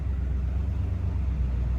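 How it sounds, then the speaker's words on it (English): A 1969 Buick Wildcat Custom engine idles smoothly with a steady, low, even rumble at moderate loudness and no voices. "we're just gonna get the smooth, quiet sound of the motor"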